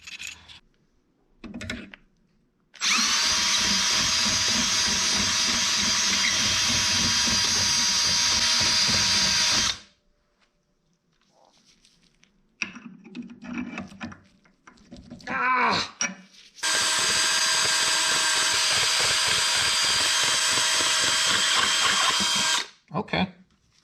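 A power drill bores into a motorcycle lowering link on a Suzuki DR-Z400S, whining loudly in two long sustained bursts separated by quieter handling clatter and brief tool noises.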